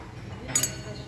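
Glasses clink once or twice in a brief, close toast over mimosas at a luxury resort restaurant overlooking the pool, a short bright chime over soft room murmur.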